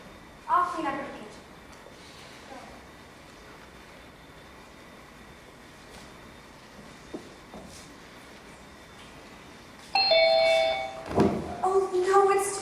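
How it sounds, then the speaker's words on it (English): A doorbell chimes inside a home, bright ringing tones arriving near the end after a long stretch of quiet room sound, with a voice speaking around it. "Oh, please, Nick, I hope you didn't hear that doorbell."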